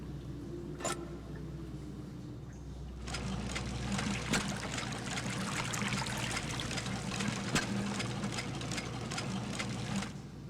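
Water rises and churns in a sewer channel in the game Sherlock Holmes: The Devil's Daughter, a steady rushing, trickling wash that swells after a few seconds and continues alone, with faint clicks throughout.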